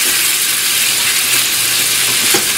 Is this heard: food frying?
yes